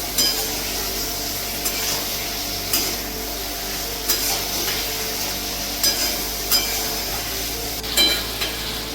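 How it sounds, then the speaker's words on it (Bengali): Boiled potatoes with spices sizzle steadily in a wok while a utensil scrapes and stirs, with periodic sharper clinks of metal against the pan's side. "আলু দিয়ে খুব ভালো করে কষিয়ে নিয়েছি"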